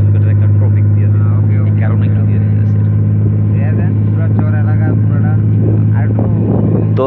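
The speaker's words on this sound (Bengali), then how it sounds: "লঞ্চ ছেড়ে এখন নারায়ণগঞ্জের উদ্দেশ্যে রওনা দিচ্ছি" A passenger launch pulls away from its terminal bound for Narayanganj, its engine a loud, steady low drone throughout, with people talking over it.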